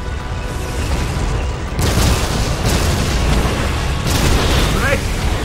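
Grenade blasts in the war strategy video game Codename: Panzers Phase Two, a dense roar of booming explosions at about two and four seconds over continuous battlefield rumble, loud and close, with shouted game voices in the mix.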